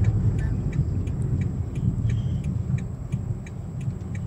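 A car pulling up and stopping on the Bintulu-Jepak bridge gives a steady low engine and road rumble, with a regular faint ticking like an indicator running over it throughout.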